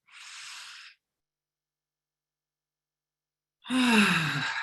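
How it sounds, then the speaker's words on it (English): A deep breath during a guided meditation: a soft airy inhale, a long silent pause, then a louder, fuller, partly voiced sighing breath close to the microphone. "Let's take a deep breath in."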